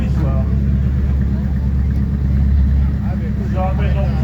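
A Porsche 911 competing in a historic Monte Carlo rally arrives at the Valence finish, its engine a low, steady idle rumble beneath continuous announcer-style speech, with crowd noise in the background.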